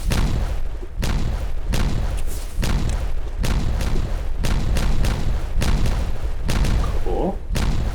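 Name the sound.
dynamite detonation in the video game Timberborn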